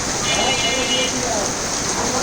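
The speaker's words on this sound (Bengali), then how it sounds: "আরে বৃষ্টি রে, আরে বৃষ্টি।" A hard downpour hisses continuously and loudly, a close, even wash of rain that never lets up, heard alone without talk.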